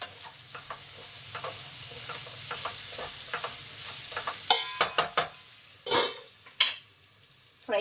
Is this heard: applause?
no